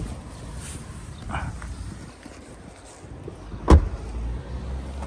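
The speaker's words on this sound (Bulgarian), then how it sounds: "Звука при затваряне на вратите, така да се каже, не е ефтин. Е доста плътен и приятен." A Skoda Superb IV car door shuts once with a solid, dull thud after quiet interior shuffling, close and fairly soft.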